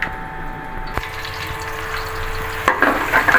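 Steady sizzling and crackling of onions frying in a pan, continuous and close, with a couple of sharp clicks.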